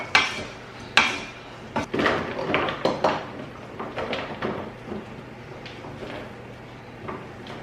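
Zucchini bread batter is mixed by hand in a bowl, with irregular knocks, clinks and scraping strokes of a utensil against the dish, fairly close and without talk.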